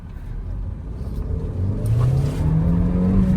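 A brand-new Hyundai Verna SX 1.5 turbo in sports mode accelerates hard, its engine note rising steadily in pitch and loudness over a constant road rumble, heard from inside the cabin.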